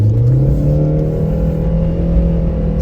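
A supercharged Subaru engine in sports mode revs up steadily and loudly, its pitch climbing as it accelerates from a stop sign, heard close from inside with no talking.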